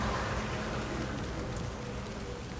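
Steady, dense rain pouring down, a continuous hiss of drops on surfaces with no pauses or voices.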